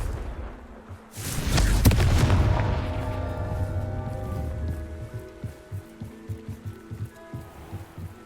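A Confringo fire spell explosion in Hogwarts Legacy on PS5, a sudden loud booming blast with a long rumbling decay, followed by lighter rhythmic impacts and clatter.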